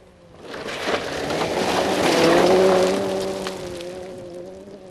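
A rally car on a stage of the 1989 RAC National Rally Championship swells from near silence to a loud engine drone with a sustained tone, then fades as it slides off and passes.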